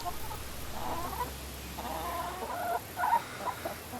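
Hungry chickens cluck in short bursts at a feeder bin, fairly soft and nearby over a low background hum, with no speech.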